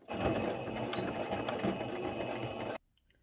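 A sewing machine stitches the elastic edge of a fitted bedsheet in one loud, continuous whirring run close by, stopping abruptly near the end into near silence; no speech.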